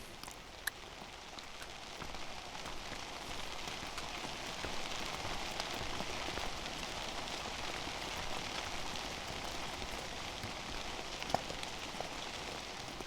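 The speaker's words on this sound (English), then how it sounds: "And it's starting to rain again." Steady rain falls on the Appalachian Trail near Katahdin, a continuous soft hiss of drops on surfaces with a few louder close drips, constant and unbroken throughout.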